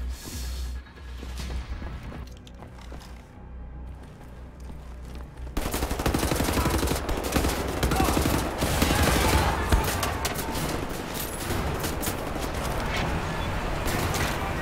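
Gunfire in the shooter game Wolfenstein: The New Order, quieter scattered shots at first, then from about six seconds a dense, loud, continuous barrage of rifle and shotgun fire with heavy booms.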